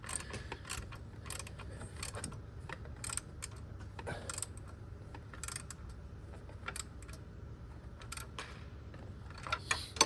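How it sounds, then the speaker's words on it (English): A ratchet with a 14 mm deep socket turns a lock nut on a 1996–2002 Toyota 4Runner during drive belt work, making rapid, quiet clicking bursts repeated through the stretch alongside light metallic handling noise. "it's going to be easier on the lock nut to use my deep socket 14 and ratchet"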